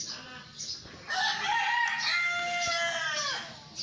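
Egyptian Fayoumi chickens on a farm, a rooster crowing in a long, strained call that rises and then trails off, with scattered clucks from the flock before and around it, fairly close and clear.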